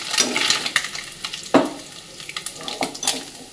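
Hot oil sizzles and crackles close by as fish fries, with a few sharper pops and spatula clinks over the steady hiss.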